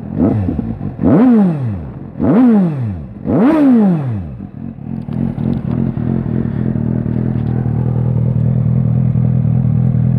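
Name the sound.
motorcycle engine revving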